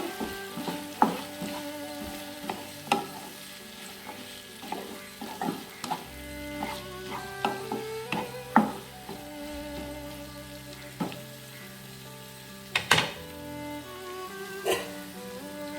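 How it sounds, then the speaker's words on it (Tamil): Tomatoes and double beans being sautéed in oil in a pan, with a steady sizzle and frequent spoon scrapes and clinks against the vessel, close and fairly loud, no one talking. "தக்காளி கூடவே ஆட் பண்ணி நல்லா வதக்கி விட்டுக்கோங்க"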